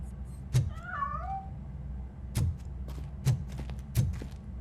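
Cat meowing in the game RoboCop Rogue City: a single close, drawn-out meow near the start, followed by a few dull thumping footsteps at an even pace.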